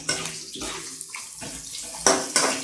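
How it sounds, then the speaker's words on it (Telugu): Thinly sliced long onions hit a hot pan for a paneer dish, giving a wet, hissing sizzle with a few sharper bursts near the end. No one talks. "సన్నగా పొడుగ్గా తరిగి పెట్టుకున్న ఉల్లిపాయలు వేసుకుని ఒక నిమిషం వేగనివ్వాలి"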